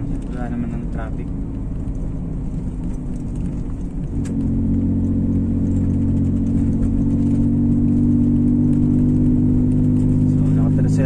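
A Toyota Wigo 1.0 manual hatchback cruises in third gear on a mountain road, its engine a steady, close droning hum that rises slightly in pitch partway through, with someone talking intermittently over it.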